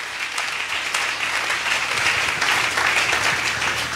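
A church congregation at a Sunday worship service breaks into sustained, dense applause that holds at an even loudness throughout, with no voices rising above the clapping.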